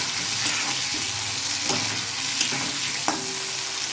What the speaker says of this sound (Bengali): এই আলুর সঙ্গে একটু পেঁয়াজ দিয়ে দিলাম, একসঙ্গে ভাজাটা হোক।